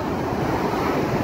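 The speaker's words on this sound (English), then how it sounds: "The sea comes over, the Atlantic Ocean comes over the wall." Atlantic Ocean waves surge over a sea wall on the coast at Georgetown, Guyana, making a loud, continuous wash of roaring surf mixed with wind noise and no distinct breaks.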